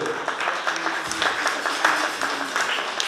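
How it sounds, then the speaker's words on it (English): An audience applauds steadily at an outdoor gourd dance event honouring veterans on Veterans Day in Santa Fe, with many hands clapping in a dense, even patter at moderate distance and no voices on top. "Let's give her a big round of applause if you guys would."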